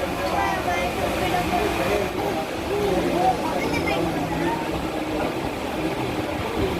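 A train begins to roll, heard from inside the carriage as a steady rumble and rattle of wheels beneath continuous background chatter and talk.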